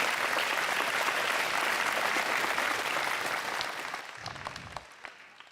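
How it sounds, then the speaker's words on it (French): A hall audience at a New Year's greetings ceremony in Cocumont applauds steadily, a dense wash of clapping that holds strong for about four seconds, then thins out and fades as scattered claps linger. "Et vous pouvez les applaudir parce qu'ils le méritent."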